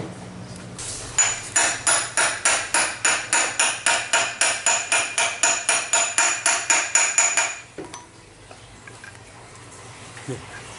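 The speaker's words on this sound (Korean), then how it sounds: "요런 소켓 있으면 소켓이나 이런 걸로 사이즈 맞게 이렇게 넣으셔서 탕탕탕 쳐주면 돼요" A scooter's driven pulley bearing is driven in by striking a socket with a hammer, giving about twenty-five sharp metallic blows in an even rhythm, close and loud. After that comes a faint clink and quiet.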